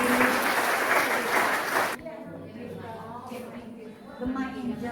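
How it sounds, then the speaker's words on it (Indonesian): An audience at a church seminar claps loudly and densely for about two seconds before the clapping stops sharply, leaving a speaker talking over a quieter room. "tepuk tangan dong untuk adik yang sendiri."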